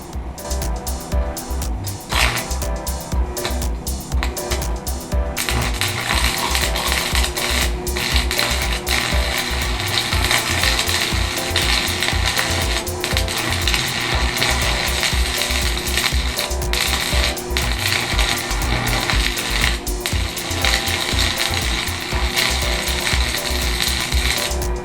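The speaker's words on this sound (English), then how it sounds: "Use it as my filler rod as I arc weld." Arc welding on a rat rod dually during a 460 engine swap, with a second rod fed in as filler to close a gap: a loud, continuous crackling sizzle that runs unbroken from start to finish.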